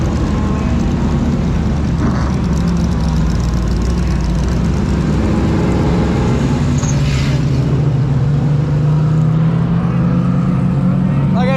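A vintage modified race car at Flamboro Speedway, heard from inside as a constant loud engine drone with deep low rumble and steady road roar throughout, no pauses.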